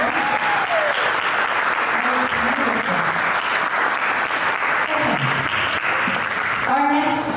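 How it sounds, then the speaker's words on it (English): A crowd applauds steadily, a dense wash of clapping that holds for several seconds, with faint voices mixed in underneath. "Can we give them a round of applause?"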